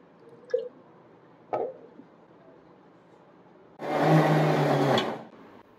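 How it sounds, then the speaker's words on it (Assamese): A kitchen mixer grinder grinding washed curry leaves: short faint taps at first, then one loud, steady whirring burst lasting about a second before cutting off. "নৰসিংহ পাতখিনি ধোৱাৰ পাছত মিক্সিত গ্ৰাইণ্ড কৰি ল'ম"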